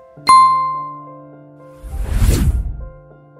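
A notification bell chimes once with a bright, ringing tone that sustains and slowly fades, followed by a soft rising whoosh; no voices.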